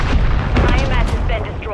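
Grenade blast in the Call of Duty Modern Warfare 3 multiplayer game, a dense, loud burst of booming gunfire-like noise filling the whole moment, with a voice shouting over it.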